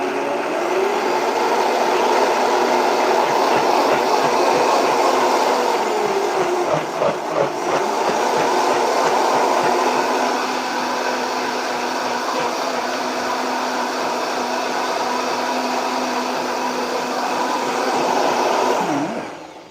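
A kitchen blender purees bread stuffing with cold chicken broth, running as a loud, steady whir for about nineteen seconds, dipping briefly midway before resuming and cutting off at the end.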